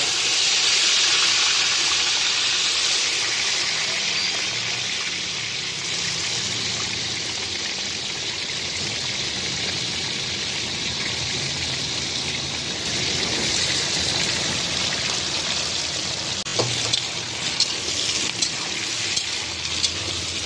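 Potato, pointed gourd and stems frying in oil with five-spice and black cumin, giving off a steady, broad hiss of sizzling, close and even, with a few small clicks and knocks toward the end.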